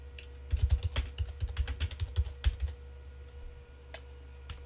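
Fingers type a blog post title on a computer keyboard, a quick burst of close key clicks in an uneven rhythm, then a few isolated taps as it trails off.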